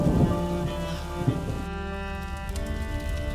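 Steady rain pours down in the APT:I video game, a dense constant hiss layered under sustained musical tones, with no voices.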